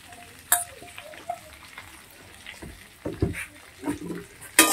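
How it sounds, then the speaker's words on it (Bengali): Grated ginger and green chili fry in oil alongside beans for a rohu fish curry, with a soft sizzle broken by sharp clinks and scrapes of a spatula against the pan. "আদাটা কিছুক্ষণ আমি ভেজে নেব"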